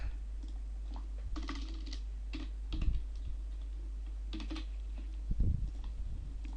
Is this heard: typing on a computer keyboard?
yes